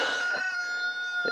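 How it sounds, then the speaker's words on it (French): A rooster crows in a vegetable garden, one drawn-out call heard at moderate distance, fairly faint against a quiet background with no talking. "il y a le coq qui chante."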